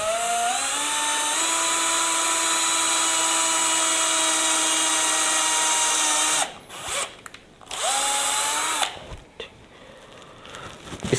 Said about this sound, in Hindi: हम इसे ड्रिल करते हैं।